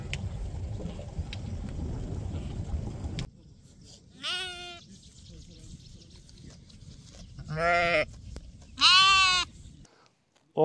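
A lamb and its mother sheep bleat in a village pasture in the Ahura Valley on Mount Ağrı near Iğdır, with several loud, wavering bleats after a stretch of breezy outdoor noise.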